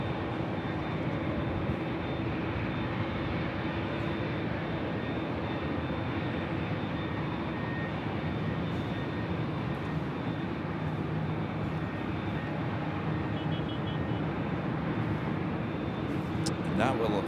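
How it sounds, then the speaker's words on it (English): An Aeromexico Boeing 787-8 Dreamliner departs Los Angeles for Mexico City, its jet engines a steady, broad roar that holds evenly for the whole stretch, with a faint voice underneath. "the Aeromexico Dreamliner, 787-8 Dreamliner heading back to Mexico City, up first"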